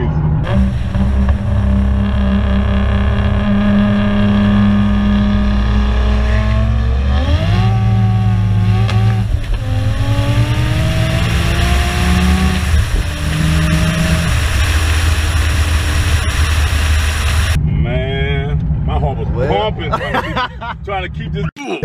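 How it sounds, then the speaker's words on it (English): Loud engine of an 800+ hp JZ-swapped Lexus SC400 accelerating hard in third gear, rising harmonics climbing steadily with a brief shift-like dip, close and continuous, with faint voices underneath. "I wasn't even full throttle in third, trying to keep it straight."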